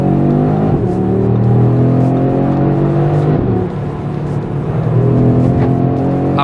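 Audi RS3 sedan running in RS Torque Rear drive mode, its engine droning loudly under sustained acceleration with a rising, steady rasp, heard up close from inside the car without pause.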